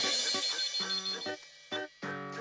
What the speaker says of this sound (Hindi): मैंने गिफ्ट शॉप की थैली पर नंबर देकर फोन किया